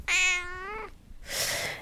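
A pet cat gives one clear, drawn-out meow up close, followed after a short pause by a softer breathy sound, in a quiet room at home.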